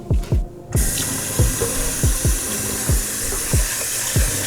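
Water runs steadily from a kitchen tap while food is rinsed in a pot, a continuous close splashing hiss with regular clunks of the pot or stirring roughly every half second, and no talking.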